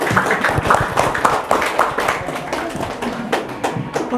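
An audience at a Ramadan health talk show claps for a guest doctor: dense, steady applause from many hands that keeps going throughout, fairly loud and close, with murmuring mixed in.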